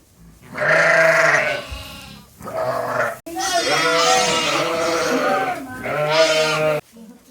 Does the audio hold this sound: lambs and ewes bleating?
yes